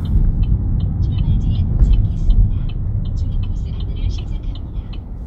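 A car rolls slowly on a road and comes to a stop at a stop line, with a low steady engine and road rumble close by and a person talking over it.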